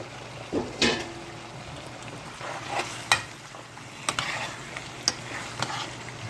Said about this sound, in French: on ajoute les poissons avec toutes les épices